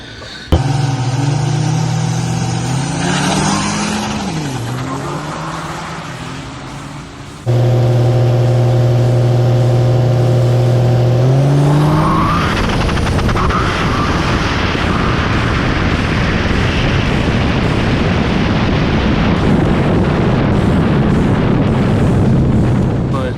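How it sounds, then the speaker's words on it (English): A 1000 HP second-gen Cummins diesel truck with a VP44 injection pump, all-steel body and running on fuel only, revs loudly with a rising harmonic drone, then roars past in a sustained, wind-buffeted blast. "that's moving pretty good for an old VP truck"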